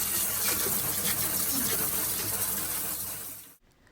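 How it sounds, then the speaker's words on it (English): A dishwasher cutlery basket from a GE Cafe dishwasher rinsed under a water spray, giving a loud, steady, close hiss of gushing water that runs for several seconds and then stops abruptly. "In the end, rinse it with water spray."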